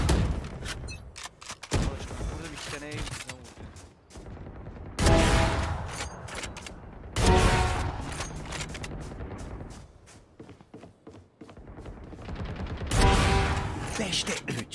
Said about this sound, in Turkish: Kim beni vuruyor? Nereden vurduğunu göreceğim.